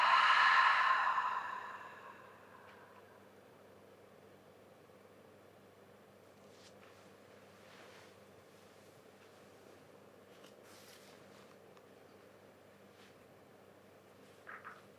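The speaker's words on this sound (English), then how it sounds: "Take a deep breath in. And exhale out." One deep exhale during a lying-down yoga relaxation, close and breathy, fading over about two seconds into a long quiet stretch with faint rustles and no talking.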